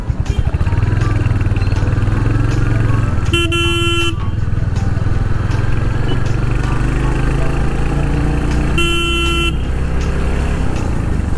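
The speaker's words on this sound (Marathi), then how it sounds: "खूपच जोरात आवाज येतोय काय गाडीचा?" A new white Royal Enfield Hunter 350 motorcycle engine runs loud and close with a steady roar, while two sustained traffic horn blasts sound nearby, each lasting under a second.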